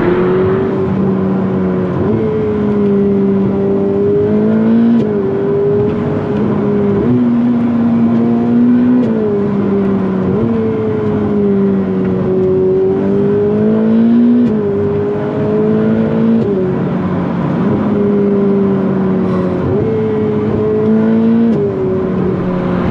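A Ferrari 488 Pista supercar is driven hard, its engine note rising and falling through repeated revving sweeps and gear changes, loud and continuous throughout with no voices.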